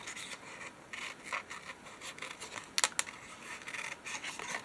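Scissors snipping paper junk journal pieces up close, a series of soft rasping cuts in uneven bursts with a couple of sharper snips, with no talk.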